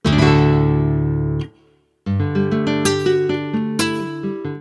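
Plucked nylon-string guitar notes with soft string noise, a sustained chord that fades to near silence before a brighter run of picked notes resumes.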